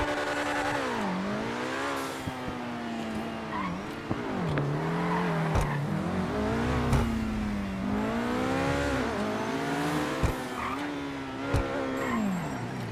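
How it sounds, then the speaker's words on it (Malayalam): A modified Obey 10F car drifting in GTA Online, its engine revving up and down in long sweeping pitch swells alongside tire squeal, with sharp clicks and bumps scattered throughout, loud and continuous without speech. "ഡ്രിഫ്റ്റ് ചെയ്യപ്പെടുന്നു."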